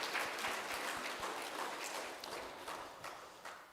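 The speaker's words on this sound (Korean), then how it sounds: "격려의 한번 박수 한번 드릴까요?" Congregation applauding in a church service, a quiet continuous patter of many hands clapping at some distance, slowly fading toward the end.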